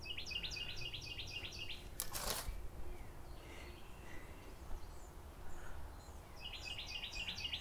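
Birds chirp in a backyard in May, with quick repeated bright chirps in steady runs at the start and again at the end. A brief loud rustling knock breaks in early, and no one speaks.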